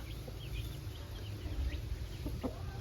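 A top-class Aseel rooster gives soft clucks from close by, over a steady low rumble of background noise, with a few brief higher calls breaking through now and then.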